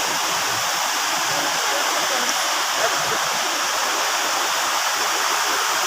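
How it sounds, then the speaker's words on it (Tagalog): Burayot Falls roaring as a dense, steady rush of falling water, loud and close, continuous and unchanging for the whole stretch. "Ito ang mismong falls ng Burayot."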